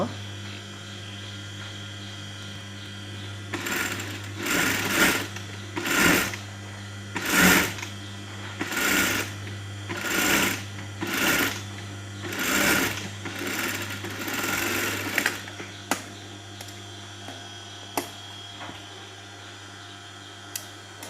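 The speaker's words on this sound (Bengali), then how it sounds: "তারপর আমরা এই সেলাইয়ের উপর দিয়ে একটি এক্সট্রা সেলাই করে নেব।" Over a constant mains hum, a sewing machine stitches a kameez band collar in about eight loud, rapid bursts of a few seconds each, followed by softer clicks and taps.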